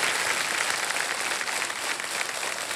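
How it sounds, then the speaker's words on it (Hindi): A KBC season 17 television quiz-show studio audience gives a standing ovation, with sustained, dense, loud clapping that stays steady and unbroken from start to finish. "और देखिए सब खड़े होकर के ताली बजा रहे हैं आपके लिए"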